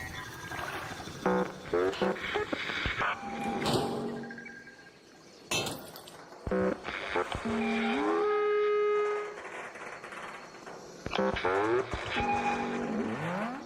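Layered electronic game effects with tonal, mechanical whirs and rumbling bursts, loud and busy, with brief pauses between clusters.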